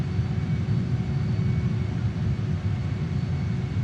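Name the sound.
JAS-39 Gripen jet engine as throttle is advanced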